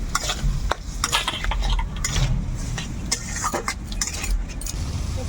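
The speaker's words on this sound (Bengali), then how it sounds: "এবার আমি সবগুলোকে ভালোভাবে কষিয়ে নেব।" Spices, potatoes and small fish get stirred and fried in a pan with onion, salt and a splash of spice water, a spatula scraping and clinking in irregular strokes over a soft sizzle, close up with no talking.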